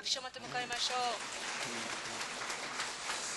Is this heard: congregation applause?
yes